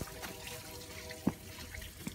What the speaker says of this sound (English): we're just exploring the creek